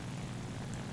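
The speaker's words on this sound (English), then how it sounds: "Two more planes coming in." Propeller plane engines in War Thunder drone as a steady, low, continuous rumble, heard on their own.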